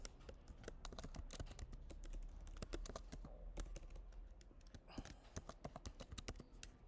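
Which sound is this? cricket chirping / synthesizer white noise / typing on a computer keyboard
typing on a computer keyboard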